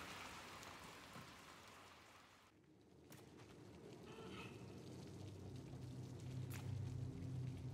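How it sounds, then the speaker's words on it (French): Rain pours steadily through an open window in the video game Little Nightmares 2, a soft continuous hiss with a brief dip and occasional faint knocks, no talking. "C'est con de laisser une fenêtre ouverte quand il pleut."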